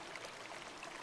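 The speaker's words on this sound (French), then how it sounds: "L'eau glissait lentement sur les pierres, apportant avec elle un murmure délicat qui berçait la prairie." A gentle stream slides over stones in a soft, continuous trickling wash, steady and fairly faint with no distinct splashes.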